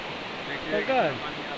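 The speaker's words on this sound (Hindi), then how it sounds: "देखिए झरने से पानी जा रहा है, कितना स्पीड में जा रहा है।" Steady rushing water from a waterfall in Kerala, a continuous broad roar with a brief voice rising over it.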